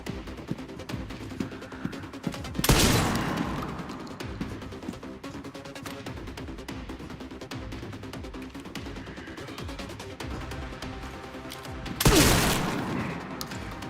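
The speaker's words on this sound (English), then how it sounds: "Might as well use my shotgun" Two shotgun blasts in the video game Resident Evil Requiem, a few seconds apart, each a loud booming burst that rings out and then decays over low ambient game noise.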